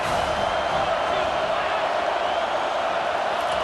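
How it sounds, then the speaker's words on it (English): Steady, dense roar of a home stadium crowd cheering during a college football video game (NCAA 25, Michigan vs Penn State) on a defensive third down, loud and continuous throughout. "Here comes this home crowd as the defense tries to get off the field on 3rd down."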